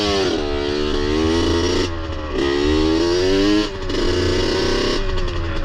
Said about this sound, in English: Riding this two-stroke up here